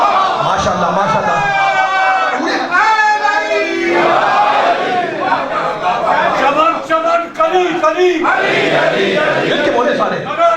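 Crowd at a religious gathering chants Mashallah slogans in unison, loud and close, with repeated rhythmic shouts swelling over continuous voices.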